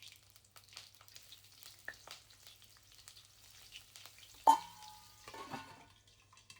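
Green chillies tempering in hot oil for a dhaba-style egg curry, a soft steady sizzle and crackle with a sharper spitting burst midway, close and alone without talk.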